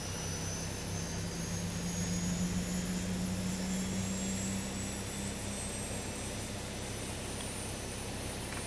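A Boeing 737 engine spools up in the X-Plane 11 flight simulator, a steady low drone with a rising whine layered above, constant and moderately loud from start to end with no voices.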